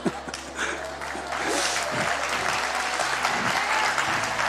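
A church congregation applauds during a sermon, the clapping swelling into a dense, loud, continuous roar that stays steady to the end.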